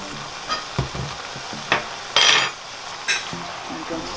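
Minced beef frying in a pan for a Nigerian meat pie filling, a soft steady sizzle under sharp clinks and scrapes of a spoon stirring against the pan.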